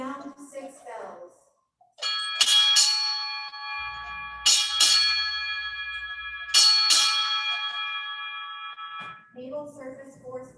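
A ship's bell at a naval retirement ceremony rings six times in three evenly spaced pairs. Each strike is bright and ringing and lingers between pairs. Voices speak just before and just after.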